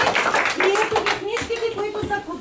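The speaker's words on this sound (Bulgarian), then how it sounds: "Ръкопляскайте." First graders at a school welcome ceremony clapping together in a brisk burst of close applause, with an adult voice speaking over the clapping.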